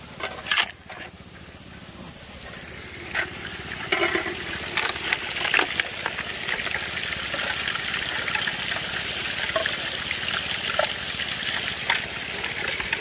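Water rushes and trickles steadily through a Gold Fox trommel washing gravel at a gold prospecting camp in Alabama, a continuous wet wash with a few sharper knocks of rock near the start.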